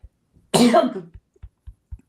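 One sharp, close cough bursts out, followed by a few soft clicks and quiet pauses.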